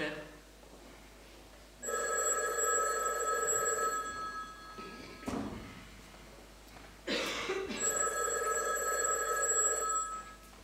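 An old-style telephone bell rings indoors in two separate bursts, each a couple of seconds long and fairly quiet, with a short rustle and a cough-like sound in the gap between them.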